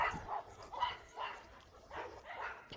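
Dog barking repeatedly in an even rhythm, roughly five or six sharp barks at moderate distance, fairly faint against background noise.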